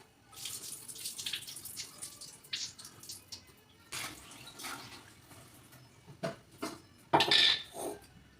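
Dishes and pots being washed at a home kitchen sink, with water running from the tap and clattering utensils in irregular bursts, a sharp clink near the end.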